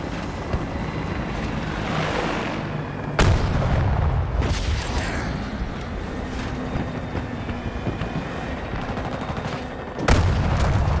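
Gunfire in Battlefield 2042 with sharp bursts near 3 s, 4.5 s and 10 s over a steady roar of wind and water, sounding loud and close.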